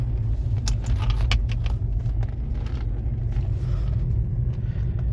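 Car engine revving loudly with steady low rumble throughout, a brief rise as the throttle opens, heard close with some light rattling on top; the petrol tank is said to contain sugar.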